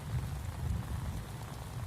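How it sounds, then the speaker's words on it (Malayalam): Steady rain pours down as a dense, even hiss with a soft low rumble beneath, continuous and fairly close, with no voices. "നമുക്ക് ഇത്രയും മഴ ഇവിടെ പെയ്യുക"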